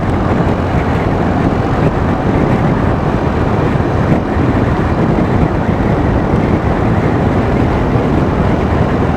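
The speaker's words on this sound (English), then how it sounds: "It gets a bit windy sometimes." Strong, steady wind buffets the microphone with a constant low roar for the whole stretch, no breaks or voices.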